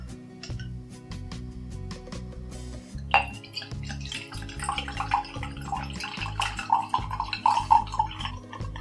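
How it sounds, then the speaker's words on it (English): Homemade lemon kombucha pours slowly from a container, with gentle liquid trickles and a few glassy clinks over a steady background hum. "This is the slowest pouring experience anyone has ever gotten."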